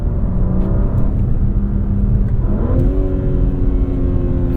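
A 2023 BMW M4 CSL accelerating on a canyon road, its engine droning loud and close from inside the cabin, pitch dipping and then climbing steadily through a gear change, with no talk.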